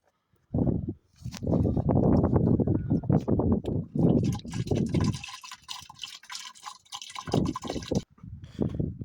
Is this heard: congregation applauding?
no